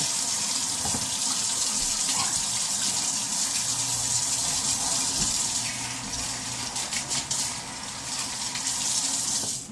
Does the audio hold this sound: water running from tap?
yes